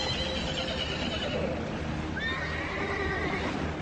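Horses swimming behind a boat across a lake whinny as they struggle in the water, with loud, rising and wavering neighs over a constant watery rush.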